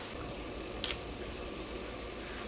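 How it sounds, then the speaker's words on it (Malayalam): Water at a rolling boil in a pot for Manjali chicken biryani gives a steady, even bubbling hiss that stays close and unbroken throughout. "അപ്പോൾ വെള്ളം നന്നായിട്ട് തിളച്ചിട്ടുണ്ട്"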